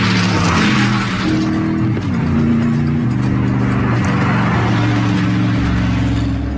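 A supercar drives on a former military airfield now used as a regional airport, its engine holding a loud, steady drone with gear-like pitch steps throughout, close and continuous with no voices.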